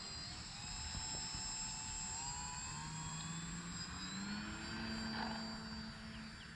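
An RC L-19 Bird Dog tail-dragger model airplane takes off, its engine buzzing steadily and rising in pitch as it throttles up, heard at a moderate distance over constant outdoor background noise.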